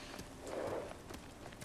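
Horse hooves clip-clopping in Ghost of Tsushima, from the white horse Nobu, a steady light trotting patter of muffled beats running under game ambience without voices.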